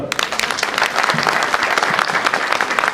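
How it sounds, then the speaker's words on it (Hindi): Loud, steady applause from an audience at a motivational business meeting in India, many hands clapping densely and continuously without a break for the full length. "राजीव जी इनके लिए ताली बजाओ जोरदार"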